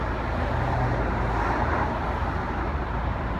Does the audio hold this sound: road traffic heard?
yes